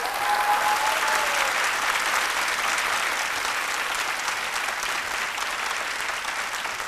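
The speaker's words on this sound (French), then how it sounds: "chaleureusement avec de nouveaux applaudissements" Dense, sustained applause from a studio audience on a midday TV show, filling the room evenly for the whole stretch, with a brief tone early on and no clear voices over it.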